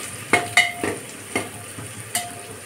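Onion, green chili and garlic fry with whole spices in hot oil for red lentil and red spinach dal, a steady sizzle broken by a few sharp clicks and scrapes of a spatula, close up and without talk.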